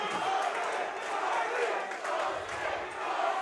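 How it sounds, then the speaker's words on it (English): Home crowd at a Boston Butchers cricket match chanting together, a dense, steady roar of many voices swelling and dipping in rhythm, with an announcer's voice mixed into the din. "The crowd chanting, Boston, Boston."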